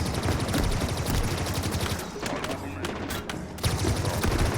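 Rapid bursts of automatic gunfire from the Halo Infinite campaign, dense and loud throughout with a brief lull midway, while a player voices a short exclamation over it.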